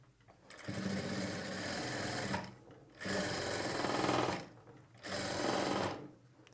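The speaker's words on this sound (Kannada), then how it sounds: "ಈ ಲೈನಿಂಗ್ ಮೇಲೆ ಥ್ರೆಡ್ ಪೈಪಿಂಗ್ ಪಕ್ಕದಲ್ಲೇ ನಾವು ಒಂದು ಹೊಲಿಗೆ ಹಾಕ್ಕೊಳ್ಬೇಕು" Nearby, a sewing machine stitches lining beside thread piping in three loud, steady bursts of whirring. Short pauses separate the runs.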